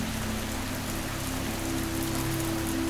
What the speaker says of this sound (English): Water is life, but heavy rain can be dangerous.